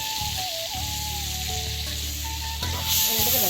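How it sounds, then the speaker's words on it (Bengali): Onion, garlic, ginger and spices hit hot soybean oil together, giving a steady broadband sizzle with some stirring, close and fairly loud throughout, with a brighter hiss near the end and no voices. "সয়াবিন তেল দেওয়ার পর দিলাম পেঁয়াজ, পেঁয়াজ রসুন আদা মশলা সব কিছুই একবারে দিয়ে দিছি।"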